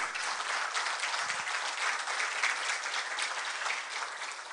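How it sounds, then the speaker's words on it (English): An audience at an international journalism session of a world congress in Seoul gives sustained applause for journalist Jack Barton, a continuous, even patter of many hands heard from a distance, fairly soft, with no talking over it. "Let's give a big round of applause to journalist Jack Barton again."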